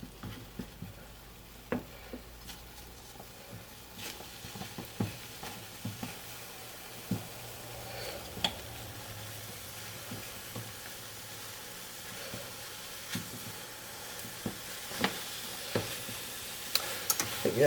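Beaten egg sizzles softly in hot oil in a pan while tamagoyaki is made, with a low steady fry punctuated by scattered light taps and scrapes of a utensil, close but quiet, with no voices.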